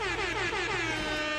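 A sustained, blaring air horn blast with a wavering pitch, loud and continuous for the whole moment.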